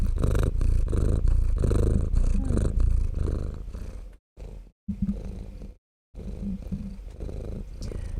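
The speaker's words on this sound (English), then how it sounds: "Oh, are you purring?" A pet cat purrs close to the microphone while sitting on a person's shoulder, giving a steady, loud rumbling drone that breaks off briefly twice near the middle, then resumes.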